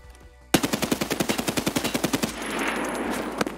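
SA-58 rifle fire in the video game Escape From Tarkov: a rapid automatic burst of about twenty sharp, evenly spaced shots, loud and close, followed by a fading echoing tail and one last clack.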